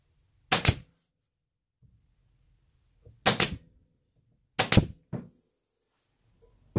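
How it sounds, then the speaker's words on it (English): Staple gun firing into upholstery fabric on a wooden parson chair seat: three sharp, close snaps spaced a few seconds apart, the last one followed quickly by a fourth, with quiet handling noise in between. "you see the way I'm stapling this?"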